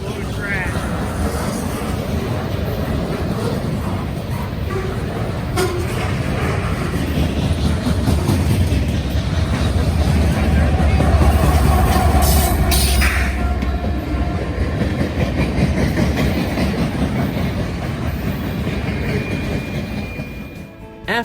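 A long CSX freight train rumbles past nearby, a steady broad roar of rolling cars that swells toward the middle and holds for about twenty seconds, with occasional squeals and clanks.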